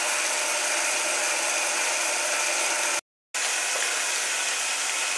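A Bechler Simplex gear-cutting machine runs with a dense, steady mechanical roar and hiss of flowing oil coolant, broken by one short silent gap before resuming at the same level; no voices.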